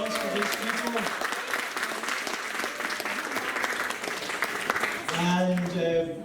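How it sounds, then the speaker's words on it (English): A crowd at the UK Fruitfest 2022 opening ceremony claps loudly and continuously for several seconds, the dense applause tailing off as a voice begins speaking near the end. "Applause for these people."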